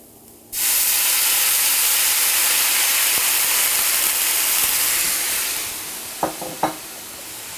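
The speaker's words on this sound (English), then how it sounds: "So into the pan go some shallots and some of the Cave Spring Riesling." Shallots and Cave Spring Riesling hit a hot pan with a sudden loud, steady sizzling hiss that holds for several seconds, then eases, followed by a couple of light clinks from stirring.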